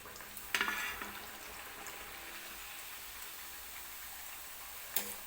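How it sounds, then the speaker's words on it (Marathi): Spicy puri dropped into hot oil, frying with a steady, soft sizzle and brief louder bubbling bursts at the start and near the end, heard alone. "तर आता तेल सुद्धा गरम झालेलं आहे सुरुवातीला मी एक पुरी सोडून दाखवते"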